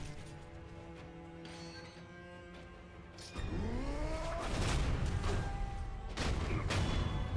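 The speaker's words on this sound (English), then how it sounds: "Firecracker is quite effective against this guy." A firecracker prosthetic tool goes off during a boss fight in Sekiro: Shadows Die Twice at Ashina Castle: a sudden loud crackling burst with whistling, sweeping tones, then continued booming, rattling pops layered over game sounds.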